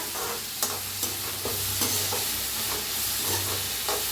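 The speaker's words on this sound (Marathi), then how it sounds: "तर कांद्याला आपण चांगलं भाजून घेऊया" Onions frying in a pan for egg fried rice sizzle steadily while a utensil scrapes and taps at intervals, close and alone without talk, a low hum running underneath.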